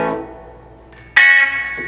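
An electric guitar played through a wah-wah pedal into a clean amp: a sustained, sweeping tone fades, then a fresh bright note is struck and rings with a vocal, filtered quality.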